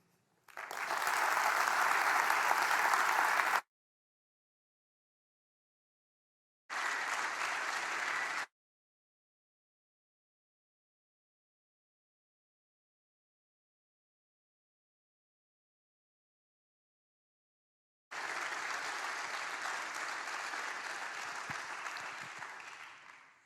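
An audience at a TEDx event bursts into applause in three separate rounds: a loud burst, a shorter one, and a final sustained round, with silence between them.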